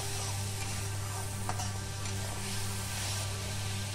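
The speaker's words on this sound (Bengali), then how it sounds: "গুঁড়ো মশলার পেস্ট অ্যাড করে মশলাটাকে সুন্দরভাবে এখানে কুক করে নিতে হবে" Powdered spice paste being stirred and fried in a pan for a string bean, potato and shrimp curry, a steady low sizzle with soft scraping of the spoon, close and alone without talk.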